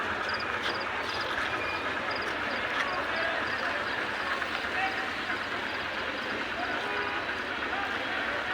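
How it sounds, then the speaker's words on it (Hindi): Morning bustle fills Bhuj railway station, a continuous wash of crowd chatter and station noise with faint high chirps and distant rail rumble, people talking throughout. "ये है भुज रेलवे स्टेशन की सुबह सुबह की रौनक"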